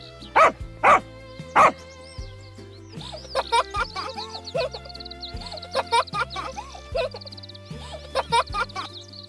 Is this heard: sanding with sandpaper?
no